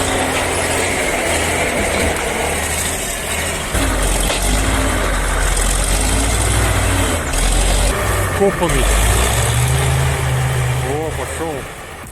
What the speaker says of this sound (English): The TT4 crawler tractor shows raw Soviet-era engineering, pulling a 40-ton logging truck from trouble.